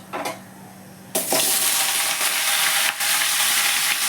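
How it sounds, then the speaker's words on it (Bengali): Raw mango pieces drop into hot mustard oil with dried chillies, bursting into a loud, close, steady sizzle after a quieter start, with a brief dip near the end and no talking. "দিয়ে একটু তেলটা হয়ে গেলে এবার আমগুলো দেবো।"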